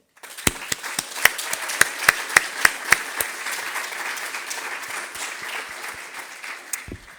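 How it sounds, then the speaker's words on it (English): A round of applause for sustainability champions at a showcase event, starting with a few sharp individual claps that quickly build into steady crowd clapping, then tapering off with scattered late claps near the end. "So I just wanted to give a big round of applause to our sustainability champions"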